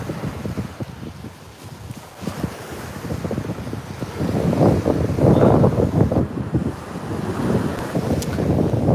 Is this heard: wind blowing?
yes